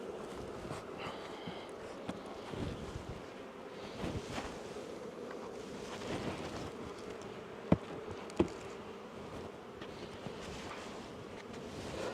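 Honeybees buzzing around leaning backyard hives, a soft continuous drone of many insects, heard outdoors with a couple of brief sharp knocks partway through.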